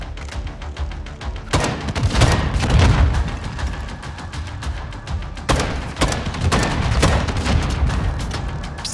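Dense, loud gunfire fills a Call of Duty DMZ firefight, with sustained overlapping shots, sharp bursts and heavy booming impacts continuing throughout, no voices over it.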